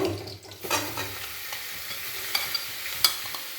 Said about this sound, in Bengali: নাড়াচাড়া করে চিকেনটাকে ভালো করে রান্না করে নেব।